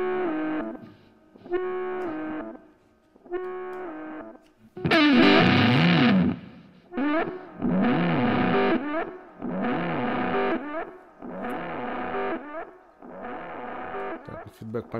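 A delay effect with high feedback in Logic Pro X repeats a distorted voice phrase in a steady rhythm, each burst echoing loudly and trailing into the next.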